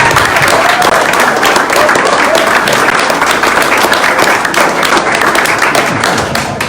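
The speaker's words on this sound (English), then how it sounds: "give a really big round of applause and a standing ovation for these courageous entrepreneurs" Loud, sustained applause from an audience at an entrepreneur accelerator event in Little Rock, a dense steady wall of clapping that holds at full strength throughout with scattered crowd noise beneath.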